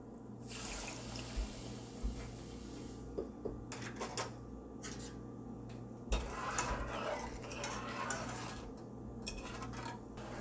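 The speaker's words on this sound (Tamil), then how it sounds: "இப்போ இதே கப்ல 1 கப் அளவுக்கு தண்ணி சேர்த்துக்கலாம்" Water is added from a cup to two cups of sugar in a pan to make jalebi syrup, a steady near pouring and splashing wash with a few clinks of cookware over a constant low hum, no speech.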